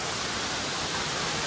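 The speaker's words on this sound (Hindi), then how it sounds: "आज पानी का फ्लो भी कुछ ज़्यादा है, बहुत ही ज़्यादा पानी का फ्लो है, बहुत खूबसूरत वाटरफॉल है ये।" Zenith waterfall at Khopoli, running with a very heavy flow, roars as a dense, steady broadband rush, loud and close, with no talk over it.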